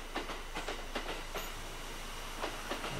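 A Kintetsu four-car train rolls slowly onto the track at Nabari depot with rhythmic clickety-clack of wheels over rail joints, fairly faint and steady.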